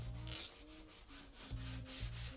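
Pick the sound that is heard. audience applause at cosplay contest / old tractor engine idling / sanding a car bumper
sanding a car bumper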